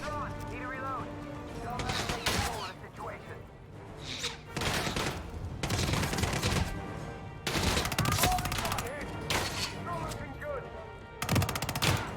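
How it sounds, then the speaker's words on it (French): Bursts of gunfire from the PC stealth action game Hitman 3, several volleys of rapid shots spread across the span, loud and dense, mixed with game music and effects. "On flingue, putain."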